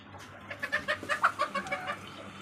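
A desi hen clucks in a quick run of about a dozen short, close calls, moderately loud, with no other voices.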